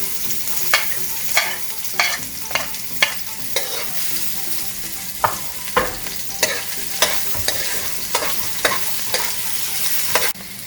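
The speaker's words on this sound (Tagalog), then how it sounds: "Once init na ang mantika, so saute na siya. And then, ang onion." Garlic and onion sauté in hot oil as a base for crab and shrimp, a constant close sizzle punctuated by regular, sharp spatula strikes against the pan roughly every half second.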